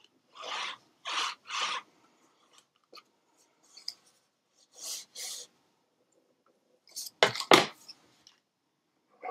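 A bone folder rubs and burnishes paper down against chipboard in short, close scraping strokes, several quick passes separated by pauses, with a louder pair of rasping strokes near the end.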